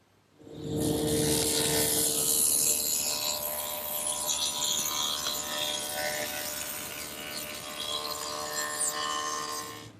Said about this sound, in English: And I've set up at the table saw to do that.